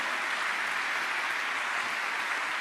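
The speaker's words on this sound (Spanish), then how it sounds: "Bien fuerte ese aplauso." A church congregation claps loudly and continuously throughout, a dense, even wash of applause with no voices standing out.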